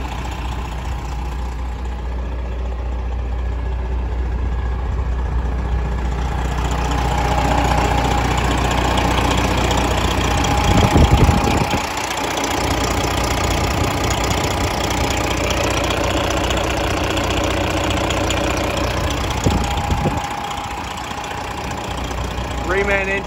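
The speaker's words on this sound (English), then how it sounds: "Reman engine done by Detroit East." A Peterbilt 389 glider truck with a remanufactured Detroit engine idles in a steady, continuous low rumble, close by, with a couple of brief clanks partway through.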